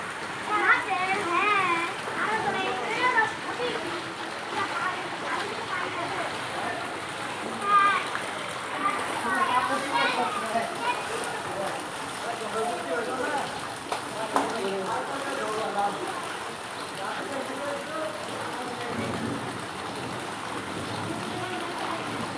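Rain and water splashing continuously on a flooded street in Dhaka, with voices of people, including children, chattering over it.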